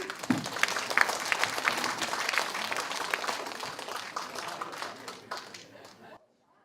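An audience at a community arts centre applauds for a solo singer, with a burst of many hands clapping that stays dense for several seconds, then tapers off and fades to silence.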